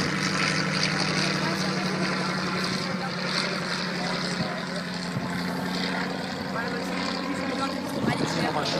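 A propeller aircraft engine drones steadily at an airshow, a continuous mid-distance hum with a slight shift in pitch, while people talk over it.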